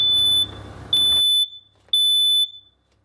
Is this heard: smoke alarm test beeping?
yes